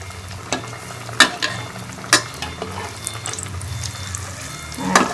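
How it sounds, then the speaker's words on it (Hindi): Aloo keema patties fry in hot oil with a bubbling, crackling sizzle, punctuated by several sharp clatters of a utensil in the pan. "अब इसके अंदर ये मैं आलू पैटीज डाल के इसको फ्राई कर लूँगी।"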